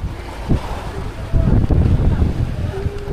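Rough sea under a strong northeast monsoon wind, with waves sloshing and buffeting wind noise against a fishing boat at sea, steady and loud with surging bursts.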